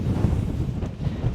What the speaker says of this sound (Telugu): గాలి అయితే ఆగట్లేదు, ఊపేస్తుంది మమ్మల్ని